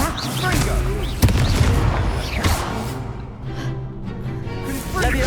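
Confringo spell explosions in the video game Hogwarts Legacy, dense repeated booms and whooshes over continuous game music and effects during a duel.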